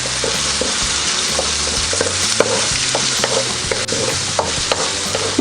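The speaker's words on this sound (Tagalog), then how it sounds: "Yan, igigisa lang po natin ng konti." Onions sautéing in a pan with a little oil for chicken cooked in coconut, loud close sizzling with repeated spatula stirs and scrapes knocking in an irregular rhythm throughout.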